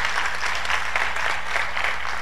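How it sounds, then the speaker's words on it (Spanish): A church congregation applauds the Lord during a sermon, a steady wash of many hands clapping at an even level, with a low hum underneath. "Denle un aplauso al Señor si quiere hacerlo"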